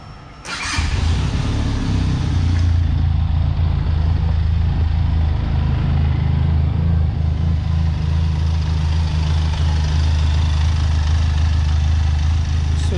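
A 2021 Benelli TRK 502X motorcycle engine cranks and fires at the start, then settles into a steady, loud, low rumbling idle that continues unchanged to the end.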